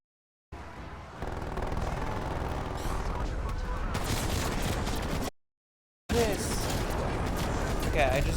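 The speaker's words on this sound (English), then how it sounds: "I just used my napalm strike across there." Dense bursts of gunfire and explosions fill a Call of Duty Zombies match on Firebase Z as a napalm strike lands, loud and sustained, broken by a brief silent gap.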